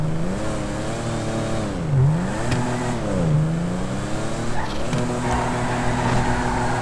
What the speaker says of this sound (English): That was the launch and the brake boost.